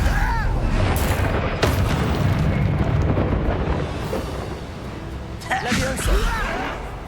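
Sharp, whip-like Confringo blasting-spell explosions from the Hogwarts Legacy video game crack out in separate bursts amid busy combat, with voices talking over the action.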